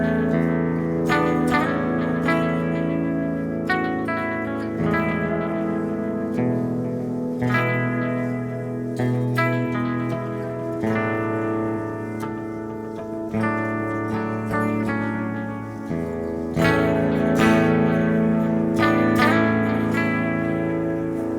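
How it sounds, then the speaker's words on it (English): An electric guitar played through a drive pedal with a built-in spring reverb tank, with sustained chords and notes ringing out in a wet, echoing wash at moderate volume, no talking. "It has an actual spring reverb in it."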